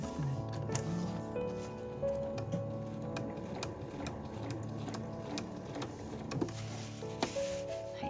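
Home sewing machine running steadily as it stitches through thick layers of a nylon tote bag, a continuous mechanical whir with rhythmic needle ticks throughout, close and moderately loud with no voices.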